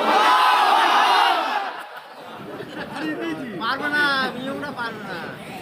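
Large crowd at a Bangla waz gathering roaring a loud, sustained Allahu Akbar in reply to a takbir call, then fading into a preacher's voice speaking over the hall.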